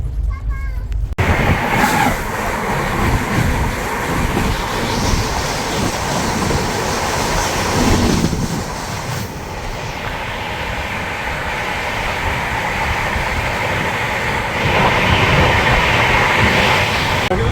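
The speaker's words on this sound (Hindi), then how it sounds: "अभी जो आपने क्रॉसिंग देखी वो थी छत्तीसगढ़ एक्सप्रेस।" The Chhattisgarh Express passing at a crossing, heard as a loud, continuous rumble and rushing roar of wheels and carriages rolling close by, steady for the full stretch with a brief dip midway.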